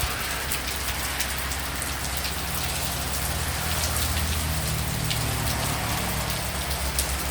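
Steady rain falling and drumming on surfaces, a continuous close patter of drops without pause, alone with no voices.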